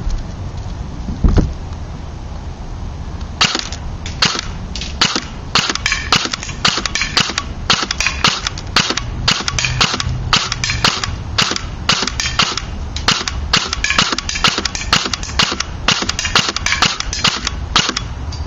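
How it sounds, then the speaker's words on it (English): A JG Ika Zuchi airsoft gun on an 11.1v li-poly battery fires at a target 100 feet away, one sharp shot first, then rapid clusters of snapping shots and short bursts, loud and close, with no talk. "let's see if this gun that's built for CQB can hit a target at 100 feet"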